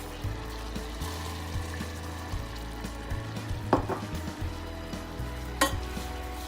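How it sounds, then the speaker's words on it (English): Butter and flour are stirred together in a saucepan, a steady low sizzle with scraping stir strokes and a few sharper clinks from the pan, close by, with no voices. "I then grabbed my flour and mixed in my flour with the butter"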